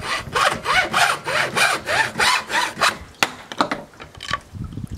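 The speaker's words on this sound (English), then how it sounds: "we're going to make a cut here, and then we're going to cut halfway through again" Hand saw cutting through a bamboo workpiece held against stop blocks, about ten loud, even back-and-forth rasping strokes, then the sawing stops and a few knocks and scrapes follow up close.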